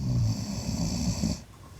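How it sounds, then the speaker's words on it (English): A sleeping dog snores close by, making a rough, rasping, low breath sound that runs steadily for over a second and then stops abruptly. "What happens when you put food in front of a snoring dog?"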